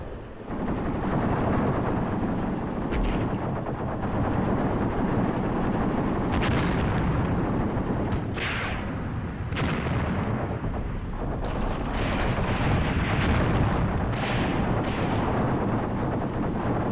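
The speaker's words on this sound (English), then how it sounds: "Note here how the Angolan rate of fire seems to be increasing." Artillery fire in the video game Graviteam Tactics: Mius Front, a loud, rumbling barrage of heavy booms and blasts with sharp cracks rising out of a continuous roar, sustained throughout with no talking.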